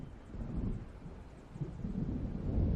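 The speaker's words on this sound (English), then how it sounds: "It seems there's a storm coming." Deep, rumbling thunder from an approaching storm in the Alan Wake game rolls low and muffled, swelling and fading in soft waves over a few seconds.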